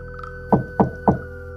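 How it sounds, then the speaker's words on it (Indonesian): Three firm knocks on a door, evenly spaced and close, dull and hollow over a steady low background hum. "tiba-tiba terdengar suara ketukan pintu"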